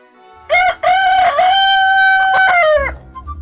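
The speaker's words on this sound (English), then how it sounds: "we're here with these amazing chickens" A Hungarian-breed free-range rooster lets out a loud, close, drawn-out crow, with a few clucks before it and after it.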